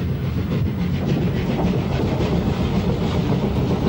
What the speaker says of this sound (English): The train enters Torpantau Tunnel,